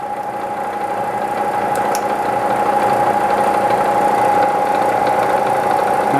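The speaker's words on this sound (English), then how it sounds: "First, we are going to start the spindle. Now we are going to engage the power quill feed." A Bridgeport Series I CNC mill runs with its spindle turning and power quill feed engaged, producing a steady, loud mechanical hum with a constant whine, unbroken for the whole stretch.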